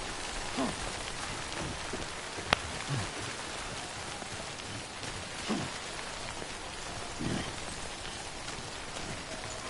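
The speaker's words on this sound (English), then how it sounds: "Let's keep me away from the rain." Steady rain patters softly across the ground in the video game Death Stranding, a faint even hiss broken by a few small drips and one brief click, with no talking.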